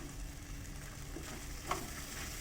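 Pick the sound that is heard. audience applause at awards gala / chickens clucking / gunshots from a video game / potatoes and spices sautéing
potatoes and spices sautéing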